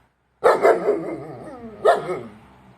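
A pet dog barks close by, two quick barks then a pause and a final bark, loud and alone with no talk over it.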